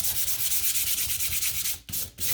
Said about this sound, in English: I've been sanding with colors, so I'm just wiping that off